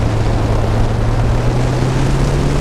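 Honda Goldwing motorcycle being ridden through corners, a steady loud engine drone with constant wind rush throughout, no pauses.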